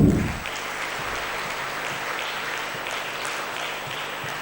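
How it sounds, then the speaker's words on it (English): Audience applause at a school contest inauguration, a broad, steady wash of many hands clapping, sustained and moderately loud throughout. "So let us begin the contest with a round of applause"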